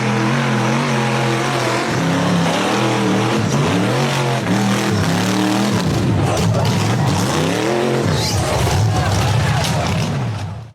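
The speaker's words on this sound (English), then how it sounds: "The buggy accelerated hard up a narrow, rutted red dirt hill" An off-road buggy engine revs hard as it climbs a steep, narrow, rutted red dirt hill, a loud continuous roar with rising and falling pitch through the gears and no pauses.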